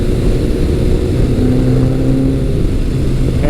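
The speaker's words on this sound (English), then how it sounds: "putting that Delkevic exhaust on this thing, it just sounds so good." A Kawasaki KZ1000 or Suzuki GS1100 motorcycle fitted with a Delkevic exhaust runs with a deep, steady engine drone, loud and close, holding a continuous rumble without clear revving swells.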